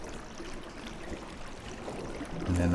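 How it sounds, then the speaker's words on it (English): Water rising to fill a dungeon puzzle chamber in the video game Conan Exiles, a steady rushing, trickling flow that holds at a constant level throughout, with a louder low rumble swelling in near the end. "and then wait for the water level to rise."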